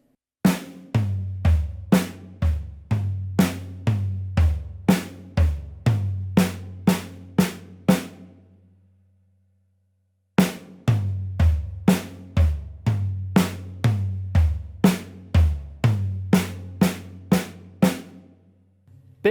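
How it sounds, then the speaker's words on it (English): A beginner-level drum fill, played slowly on the snare and ending on a snare hit, is heard twice with a pause between. Each pass is a run of evenly spaced strikes over a low booming undertone. "So all together, your drum fill should sound like this, nice and slow."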